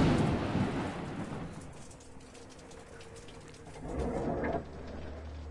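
Heavy rain pours steadily in The Bellows, a PSVR game, with a deep thunder rumble at the start and another swell near the end, loud and close over the hiss.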